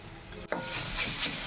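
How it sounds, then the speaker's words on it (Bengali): Leafy greens are stirred in a frying pan during Bengali home cooking, giving a short scrape of a utensil followed by a steady close sizzle for about a second. "ভালো করে এটাকে এবার আমি নাড়াচাড়া দেবো"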